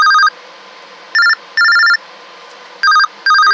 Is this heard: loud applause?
no